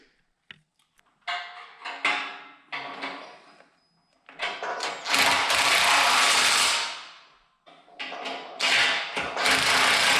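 Metal top caps being bolted onto the posts of a four-post car lift during assembly, with repeated ratcheting wrench clicks and clanks in bursts, close and fairly loud, with brief pauses between runs.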